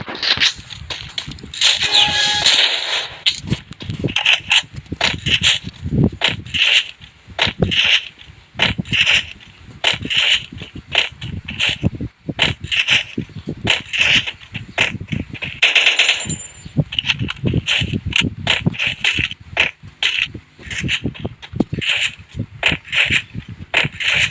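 Rapid bursts of video game gunfire crackle again and again with brief gaps between volleys, loud and close, with no talking over them.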